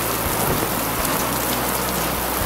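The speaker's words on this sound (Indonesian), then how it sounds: "Masuk, masih kena hujan loh." Heavy rain pours in a dense, steady roar at close range, unbroken for the whole stretch with no voices over it.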